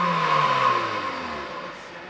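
A used car's engine runs and then eases off, its note falling as the revs drop steadily over a couple of seconds, close and loud with no talk.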